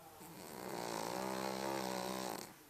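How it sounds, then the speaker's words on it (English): A dog's single long, rasping snore swells up and fades away, close and fairly quiet, with a buzzing, rattling texture. "Dog snores."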